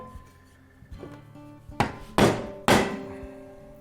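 Metal chisel struck by a hammer on metal during a tractor subframe and battery box fabrication, a few light taps followed by three loud, ringing blows about half a second apart, heard alone.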